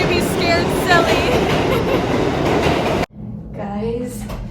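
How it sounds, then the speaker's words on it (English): A loud New York City subway train roaring and rattling through a station or tunnel, a dense clattering wash that cuts off abruptly, followed by quieter rumble as a voice speaks over it. "The train is so loud."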